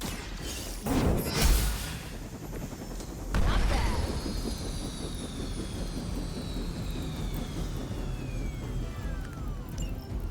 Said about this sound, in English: That helicopter's about to take off